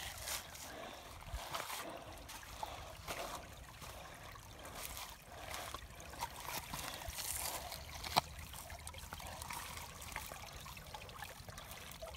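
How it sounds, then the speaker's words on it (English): Faint water trickling in a small creek, a soft continuous babble with occasional small splashes, quiet and steady throughout. "So we're gonna walk this creek just a little bit here."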